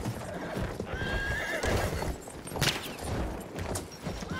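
A horse galloping in Battlefield 1 on a desert multiplayer map, with rapid rhythmic hoof clip-clop and a whinny, loud and close, with faint distant gunfire behind.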